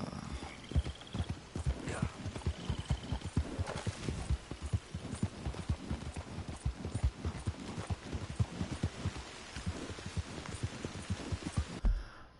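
Horse hooves clip-clop steadily in Red Dead Redemption 2, a close, regular beat of hoof strikes on the ground that continues for over ten seconds, with a faint ringing tone briefly audible early on.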